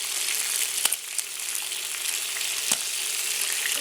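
Stuffed squid sizzling in a pan, a dense continuous hiss of frying oil with a few sharp pops and spits, close up and steady with no voices.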